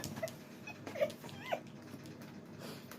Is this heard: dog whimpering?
yes